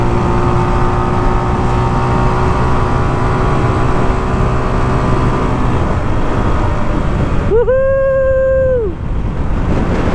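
Rusi Classic 250 cafe racer motorcycle pulling hard in fourth gear, its steady engine drone loud and close amid wind rush, with a rising whine toward the end.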